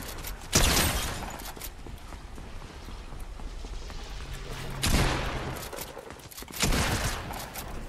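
Bursts of rapid gunfire from Fortnite erupt three times, loud and sharp, with quieter rattling shots and ambient noise in between.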